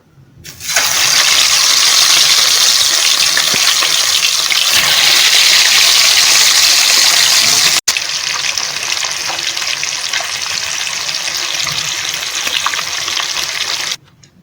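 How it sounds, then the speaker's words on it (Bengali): Fish frying in hot mustard oil for a Bengali curd-fish curry: a loud, steady sizzle starts abruptly and crackles on without a break, dipping slightly midway and stopping near the end, with no voices. "তেলটা গরম হয়ে গেছে, এবার আমি মাছগুলোকে দিয়ে দেবো।"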